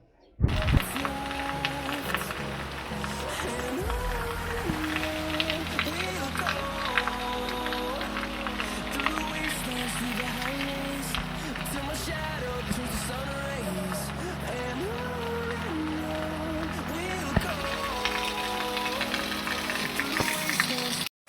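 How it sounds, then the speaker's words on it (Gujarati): Heavy rain in Lamdhar village makes a constant broad hiss and patter that runs unbroken from start to finish, with people talking over it. "તો મિત્રો અત્યારે વરસાદ બહુ આવે છે."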